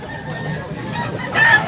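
Gamecock chickens at a fowl market in Tabunok, Cebu cluck softly amid a busy ambient murmur, with a louder burst of clucking toward the end.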